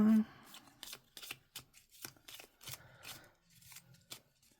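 A deck of cards being shuffled, in quick repeated riffling bursts.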